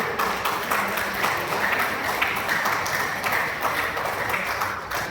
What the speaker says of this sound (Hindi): तो एक बार जोरदार तालियां इसके लिए।